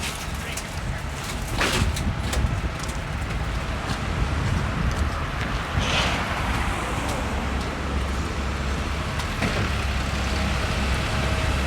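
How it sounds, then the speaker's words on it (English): A cement truck on a city street in Regina rumbles steadily with traffic noise and wind, a low continuous engine drone with occasional hisses, heard close from the sidewalk. "Didn't realize there was a cement truck in the way."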